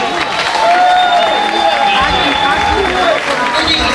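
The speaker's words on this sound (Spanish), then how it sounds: "¡Fuerte el aplauso!" A live comedy show audience applauds and cheers loudly, a dense wash of clapping with crowd voices and some whistling mixed in.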